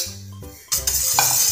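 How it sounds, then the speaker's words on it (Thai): Pea flour batter poured into a pot and stirred with a utensil: a few soft clinks, then a wet pouring splash and steady scraping, stirring sounds close by, with no voices. "ก็คนให้เข้ากันก่อนนะครับแล้วก็ค่อยเปิดแก๊สครับ"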